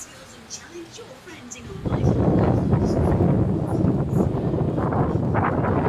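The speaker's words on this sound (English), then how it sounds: "I can hear the wind" A rough, steady wind roar buffets the microphone outdoors in Rhyl, starting suddenly after a quiet moment and continuing loudly to the end.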